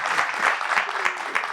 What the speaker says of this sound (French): ça mérite effectivement ces applaudissements